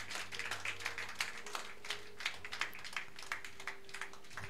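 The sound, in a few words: applause for the praise team in church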